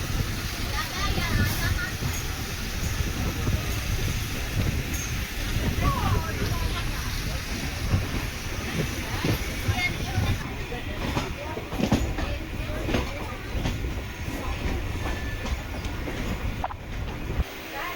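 A MEMU commuter train on the Tiruvannamalai–Tambaram run rumbles steadily with clattering wheels and carriage noise, loud and continuous throughout, with a few sharper clicks and squeals.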